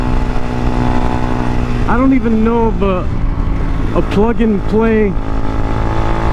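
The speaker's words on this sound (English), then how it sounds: "Just a little vibey and loud. I wish there was a quieter exhaust." A 2021 Hawk 250 DLX EFI motorcycle's loud stock exhaust holds a steady, low droning rumble from start to finish while someone talks over it close by.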